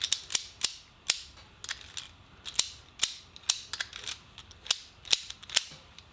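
A Porta-Cable ratchet strap is cranked, giving a series of sharp, close, metallic clicks in an irregular rhythm, about a dozen distinct snaps standing out against a quiet background.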